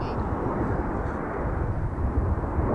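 Frecce Tricolori jet formations roar overhead during a crossover at an air show, a broad, loud, continuous jet rumble filling the moment without any speech.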